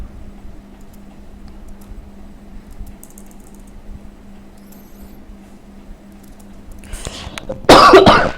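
After a quiet stretch with faint clicking, a loud cough bursts out near the end, close and sudden.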